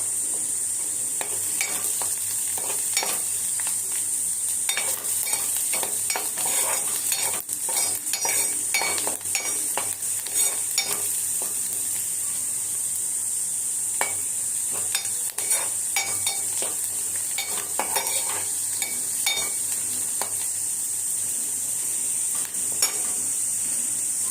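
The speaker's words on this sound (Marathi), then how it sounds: "कांदा भाजत आला की आपण त्याच्यामध्ये टोमॅटो टाकणार आहोत." Onion fries in a pan while being stirred: a steady, bright sizzle runs throughout, with frequent scraping and clinking of a utensil against the pan.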